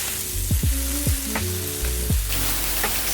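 Pork and green onions stir-frying in an oiled pan, a steady sizzle under repeated scraping strokes of a spatula against the pan, close and fairly loud, with no voices.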